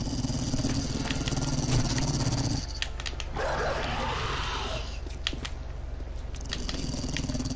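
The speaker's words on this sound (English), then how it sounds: "I'm now hearing a dog." A dog in the survival game 7 Days to Die growls and snarls up close, rough and aggressive, over a steady low game-world hum, with a brief harsher burst partway through and no talking.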